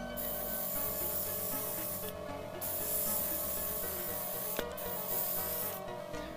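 Airbrush driven by a compressor sprays paint onto clean metal to add corrosion spots, giving a steady continuous hiss with brief pauses and one small click near the end.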